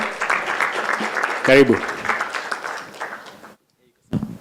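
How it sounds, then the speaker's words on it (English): Audience applause greeting a panel and moderator at the Kenya Internet Summit, a steady broad wash of clapping that runs for several seconds under a speaker's welcome, then stops briefly before the voice resumes. "Let's welcome them with a round of applause."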